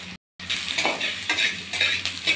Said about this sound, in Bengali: এখন আমি সয়াবিনটাকে ভেজে নিচ্ছি।